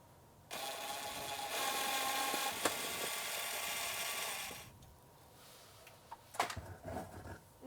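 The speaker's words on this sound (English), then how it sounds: "we have to use a Phillips head screw bit to remove these 3 screws" A screwdriver fitted with a Phillips head bit backs out wall-mounting screws from a battery monitor shunt, a buzzing motorized whir lasting about four seconds, followed by quieter scattered clicks and handling knocks.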